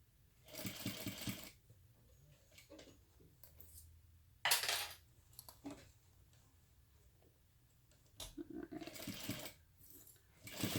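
A sewing machine stitches along the bottom of a crossbody bag in three separate bursts of running, quiet pauses with small handling clicks between them.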